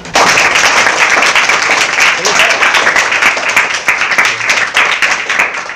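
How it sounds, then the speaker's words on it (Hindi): Loud, close applause with dense clapping throughout, a crowd clapping energetically in a school room with some voices mixed in. "तो ताली बजा दीजिए।"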